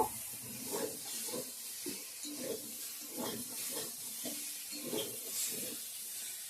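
Hot water poured into sizzling spice masala in a pan makes a steady broadband hiss, with rhythmic bubbling and spluttering bursts repeating throughout. It is fairly faint, with no talking.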